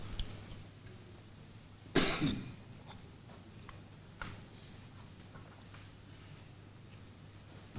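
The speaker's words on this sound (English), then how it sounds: "Sorry, I'm having a bad cough." A single loud cough burst in a quiet room, followed by a fainter throat-clearing sound a couple of seconds later, over a steady low hum.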